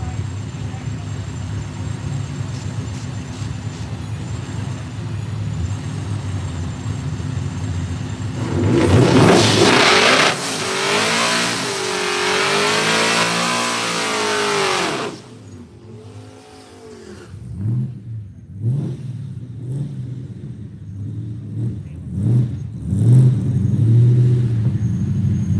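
A 1979 Ford Mustang drag car at a dragstrip, engine idling and then launching into a loud, sustained full-throttle roar with rising pitch sweeps as it accelerates away, followed by fainter engine revving nearby.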